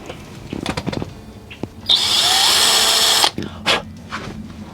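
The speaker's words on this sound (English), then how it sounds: "drill this hole real quick" A power drill whirs steadily for about a second and a half drilling a hole in PVC pipe, bracketed by clunks and handling noises before and after.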